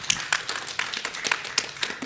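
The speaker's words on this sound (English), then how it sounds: "Round of applause for Marie." A small audience at a mentorship summit panel discussion claps for a panelist in a scattered, moderately quiet round. Individual hand claps stand out in a loose, uneven rhythm.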